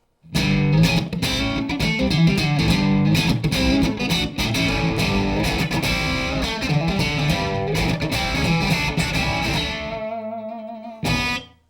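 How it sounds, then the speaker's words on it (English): An electric guitar through a Seymour Duncan P-Rails pickup in P90 mode, with a thick, slightly gritty tone, plays a continuous busy riff, then lets a final chord ring out before a brief strum. "The sound of P90s."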